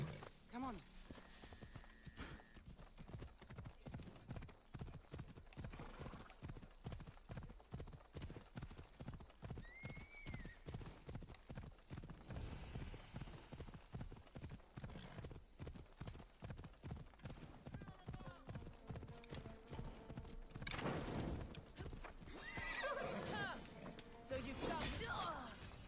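A horse in Assassin's Creed Odyssey gallops with fast, steady rhythmic hoofbeats throughout, a whinny breaking in, a thud midway and a louder burst near the end.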